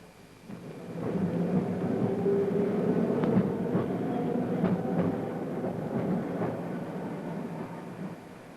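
A 1960 Sheffield electric tram rumbles along private track, rising from quiet to a steady low roll with faint rhythmic clicks of the wheels.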